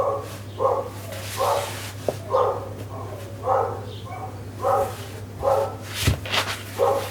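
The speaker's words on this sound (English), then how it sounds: "Apologies for the dogs in the background." Dogs barking repeatedly in pairs at a steady rhythm, somewhat distant, over a low steady hum, with occasional yips.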